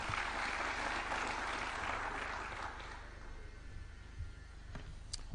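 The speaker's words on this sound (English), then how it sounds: "Let's give them another hand clap." An audience at a State House event claps for young innovators: a dense, steady patter of many hands for about three seconds that then thins and fades to scattered claps.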